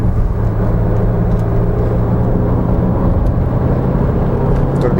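A 1995 Fiat Tempra Turbo at full boost, its engine holding a loud, steady, rumbling whir from inside the car with no talking.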